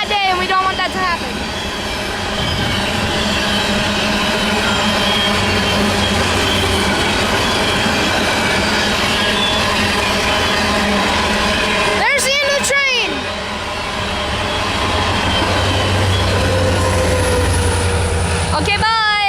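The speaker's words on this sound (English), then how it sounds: "So that's why we're not in the trench when a train comes by on this track." A train rolls past on the nearest track, loud and close, with a continuous rumble of railcars and a sharp burst of wheel squeal partway through.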